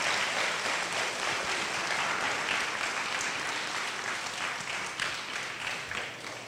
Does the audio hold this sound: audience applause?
yes